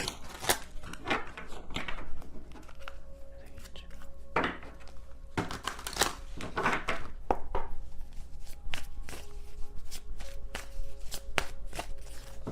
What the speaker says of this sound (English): So hard to shuffle this deck.